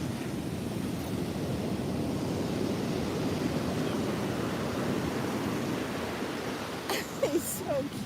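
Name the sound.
big ocean waves breaking on the shore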